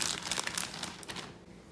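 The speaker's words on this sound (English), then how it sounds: "So I got a Ziploc bag or just a plastic bag." A plastic Ziploc bag crinkles close up in a quick burst of crisp rustles that fade after about a second, with no talk.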